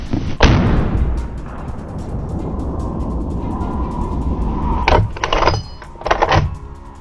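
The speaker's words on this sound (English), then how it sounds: "I raised the rifle, aimed, and fired. A sharp shot." A single sharp rifle shot fired at a wild boar during a hunt rings out near the start, followed by a rumbling, noisy outdoor background with a few later bursts of clatter.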